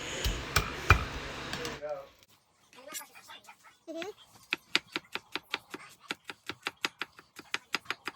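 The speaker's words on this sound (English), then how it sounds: "be careful when you're chopping" Rapid, crisp knife chops through garlic on a cutting board, a steady run of sharp clicks following a stretch of talking and a few softer taps.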